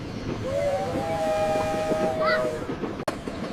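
A train whistle sounds in a long sustained blast over a low rumbling rail background, followed by a sharp click near the end, fairly close and clear.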